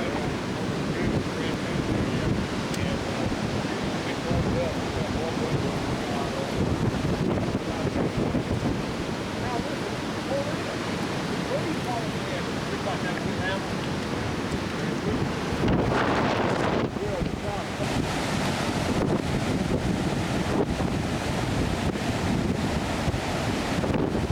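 Big ocean waves crash and surf roars during Hurricane Ivan, with strong wind buffeting the microphone in a constant loud, close rumble, and a heavier surge of surf partway through.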